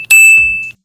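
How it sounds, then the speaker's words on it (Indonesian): A single bright notification ding that rings clearly and fades away over less than a second, loud and isolated. "nanti bakalan ada suara notifikasi seperti ini"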